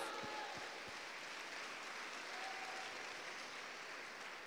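A church congregation at a revival conference bursts into steady, dense applause that fills the room without letup, loud and continuous from start to finish, with no one speaking over it.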